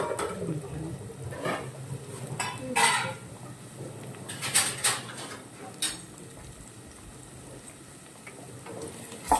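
A ladle stirs rice in a pot in a home kitchen with a fast gas flame going. Metal scrapes and clinks come at irregular intervals over a low background hiss, with faint speech at times.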